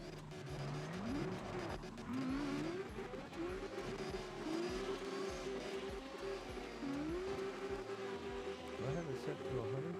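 Engine of a drifting car in CarX Drift Racing Online revs and wails continuously, pitch rising and falling with throttle, with tire squeal and skidding mixed in, loud and close throughout while someone talks over it.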